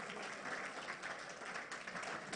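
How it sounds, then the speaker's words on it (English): An audience at a book launch for a collection of Yoruba elders' wisdom bursts into sustained applause, a thick, even wash of many hands clapping, fairly distant and soft in level, with no voices over it. "that applause will be louder"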